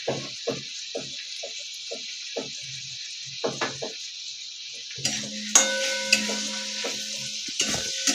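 Spice paste stir-fried in oil in a pan, with irregular spoon scrapes and clacks over a soft sizzle, followed by louder clinks and a steady frying hiss near the end.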